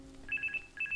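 A telephone rings in the game The Charnel House Trilogy, two quick bursts of an electronic trilling ring, close and clear over a quiet background.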